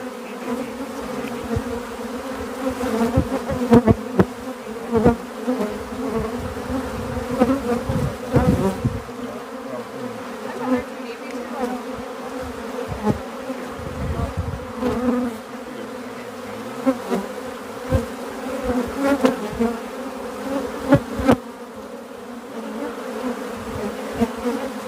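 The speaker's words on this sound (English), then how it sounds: "I think these bees are pissed." A dense, continuous drone of a huge honeybee hive buzzing close and loud, with individual bees whining past over the steady hum.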